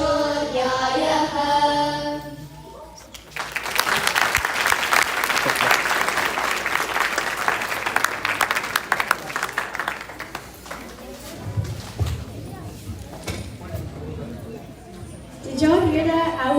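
Audience applause after students' Sanskrit recitation at a youth volunteer program's annual day, a dense, loud wave of clapping and crowd noise lasting several seconds between stretches of talk.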